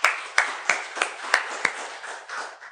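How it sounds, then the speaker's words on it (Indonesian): A church congregation claps during Sunday worship, several distinct sharp claps landing in a loose rhythm, then softening into scattered, quieter clapping. "Tepuk tangan buat Yesus."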